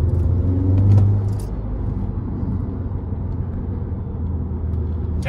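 Audi S3 with a manual gearbox driven through a hairpin bend, its turbocharged engine giving a steady low rumble that swells briefly near the start and then holds an even drone, with faint higher turbo whistles.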